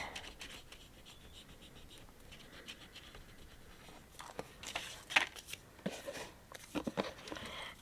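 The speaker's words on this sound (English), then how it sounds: "I'm going to go ahead and erase the pencil marks." Pencil marks rubbed off paper with an eraser during a papercraft armoire project: faint, quiet scratchy strokes that grow busier and more rapid toward the end, with no voices.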